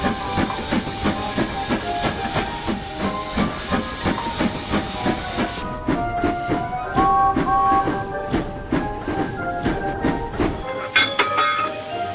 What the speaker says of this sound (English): Henry wheezed slowly into the siding